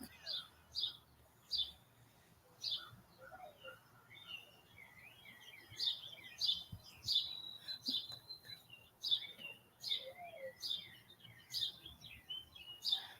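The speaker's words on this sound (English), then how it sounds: "I love the sound of the birds and cars flying past and birds chirping, dogs barking" Small birds chirp and tweet outdoors in short repeated bursts, fairly close and clear over a quiet background, with occasional faint talk.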